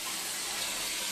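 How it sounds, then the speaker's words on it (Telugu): A mother runs tap water to fill her nine-month-old baby boy's bath, giving a brief, steady, soft gush of flowing water with no other sounds. "అమ్మ నీళ్ళు పడుతుంది నాన్న"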